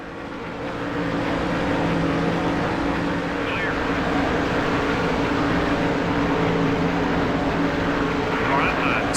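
Race car engines in the NASCAR Thunder 2003 video game drone continuously and loudly, a dense, steady roar of several cars with little variation.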